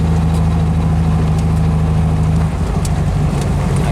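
A car with a 1776 single port engine on its first drive on a chilly day, with a steady, loud engine drone and a strong low hum that shifts pitch midway as the revs change.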